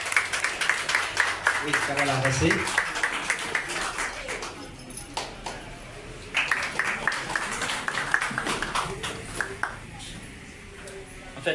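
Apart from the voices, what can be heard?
audience applause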